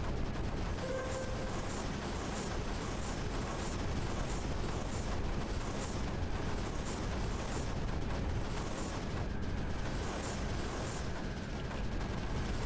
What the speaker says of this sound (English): Blue explosions popping up for just a moment looks very neat. The, you know, the bigger explosions from the bomb drops.